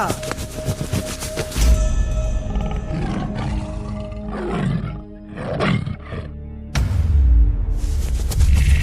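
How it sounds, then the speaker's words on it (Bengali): Repeated deep roars from a white tiger, loud and close, with a few throaty growls between bursts and a final heavy roar near the end. "এটা তো সাদা বাঘ রে"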